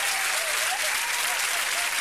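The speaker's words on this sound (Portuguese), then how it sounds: "essa gentinha toda aí a bater palmas" Crowd of people applauding, with steady dense clapping throughout, close and loud, with no pauses.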